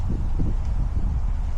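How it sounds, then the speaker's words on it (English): Strong wind buffets the microphone in low, rumbling gusts, loud and continuous with no voices. "it's a super windy day"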